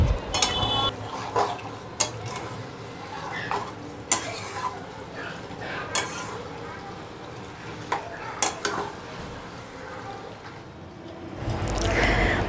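Chicken being stir-fried with spices in a pot for Kolkata biryani, with a steady sizzle under repeated scraping and clanking of a spatula against the pot, a few sharp knocks standing out.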